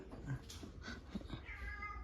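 A cat meows softly in a quiet room, a couple of short, faint cries over low background noise.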